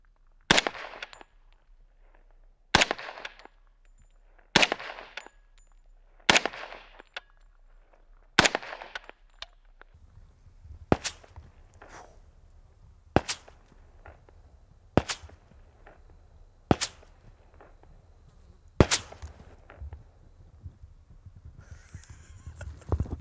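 Subsonic .45 rounds crack past and smack into a target one at a time, about a dozen sharp impacts spaced roughly two seconds apart, with a steady low rumble entering partway through.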